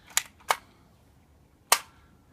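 An Avengers Assemblers toy blaster fires darts as three sharp, snappy pops: two close together, then a third after a pause. Each is loud and near, with a quick decay into quiet.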